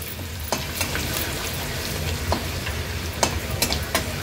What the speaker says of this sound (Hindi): हे आलं लसूण क्रश घेणार आहोत, ते पण तेलावर छान परतून घ्यायचं आहे